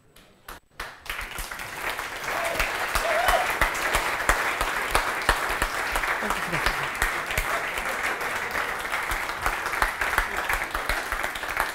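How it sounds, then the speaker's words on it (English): An audience at a university talk breaks into sustained, even applause after a presentation, a steady roar of many hands clapping close by that starts abruptly and continues without letting up. "No, stop clapping."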